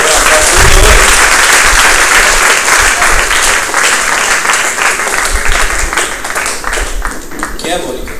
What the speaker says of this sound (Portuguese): Pode aplaudir o Senhor e depois abraçar o Senhor.